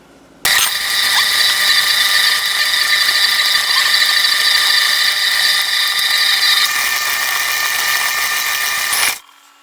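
An electric mixer creams butter with brown and white sugar for macadamia nut cookies, giving a steady, loud mechanical whine for about nine seconds. It starts and stops abruptly, with no talking.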